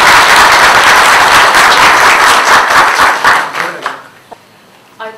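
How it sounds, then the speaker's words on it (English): Audience at a book event honoring a publication center's author breaks into loud, close clapping that holds steady, then thins into scattered individual claps and fades out, with one last clap at the end. "I ask you to applaud for her."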